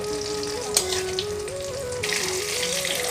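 Ridge gourd fritters (pakora) crackle and sizzle in hot oil, a constant bright frying hiss with a few sharper pops, fairly close and steady, while faint music plays underneath.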